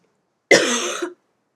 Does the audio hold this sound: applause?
no